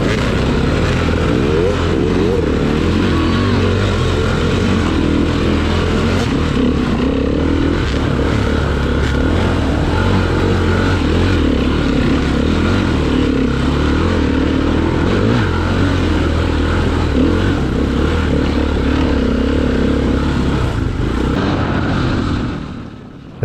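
Many dirt bike engines rev and drone together at the start of a hare scramble race, a loud, continuous, bunched-up roar with rising and falling throttle, fading at the very end.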